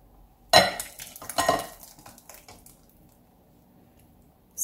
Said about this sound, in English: So yeah, just mix it and this is done.